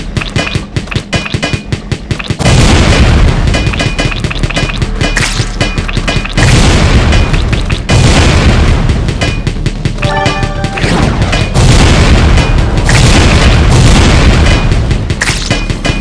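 Bomber enemy in the Wall World PC game exploding close by, giving a series of loud, booming blasts and crashes that repeat across the clip over a dense layer of game sound, with no talk.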